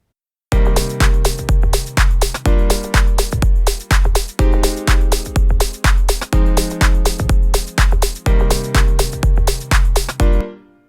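A house-style piano chord progression built from basic four-note jazzy chords, struck loud and close in a steady, even rhythm of repeated stabs with short decays, ringing out at the end.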